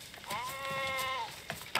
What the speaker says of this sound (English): This here Billy Goat is my girlfriend.